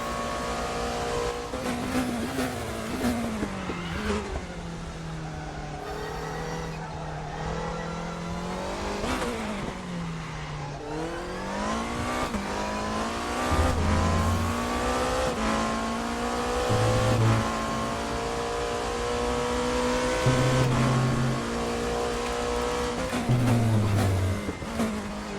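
A race car's onboard engine in the RaceRoom racing game screams through repeated upshifts and revs, rising and dropping in pitch over a low rumble, loud and continuous with no talk.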